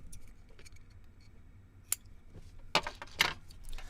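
Scissors snipping clear heat shrink tubing for labelling wires, a few quiet crisp cuts close by, the loudest two near the end, over a faint low background hum.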